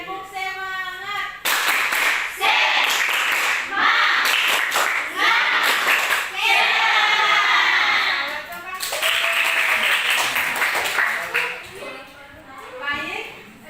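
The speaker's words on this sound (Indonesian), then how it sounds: "Tepuk semangat" Children in an Islamic religious education class clap the rhythmic tepuk semangat chant, bursts of patterned clapping mixed with young voices chanting along, loud and close with brief pauses between phrases.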